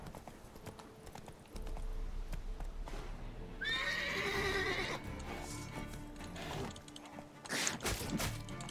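A horse in The Witcher 3: Wild Hunt whinnies loudly in the middle of the scene, with clip-clopping hooves and game ambience running before and after.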